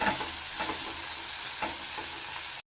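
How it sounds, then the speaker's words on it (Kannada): Onion, tomato and garlic frying in a pan for temple-style sambar, a steady close sizzle with periodic scraping stirs, ending abruptly. "ಈರುಳ್ಳಿನ ಟಮಾಟ ಮತ್ತು ಬೆಳ್ಳುಳ್ಳಿನ ಚೆನ್ನಾಗಿ ಫ್ರೈ ಮಾಡ್ಕೊಂಡ್ರೆ ಸಾಂಬಾರು ರುಚಿಯಾಗಿರೋದು"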